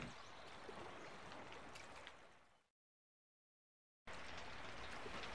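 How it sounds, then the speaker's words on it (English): Steady rain in the Summer in Mara game makes a dense, even hiss with faint droplet ticks, cut off by total silence for over a second before the same rain resumes. "And still raining."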